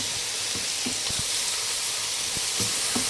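Herb-coated chicken pieces sizzle in a frying pan, giving a loud, constant close-up hiss with a few soft knocks and stirs scattered through it.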